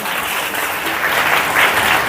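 A church congregation claps together during a Hindi sermon, making a brief, loud, even burst of hand-clapping with no voices over it.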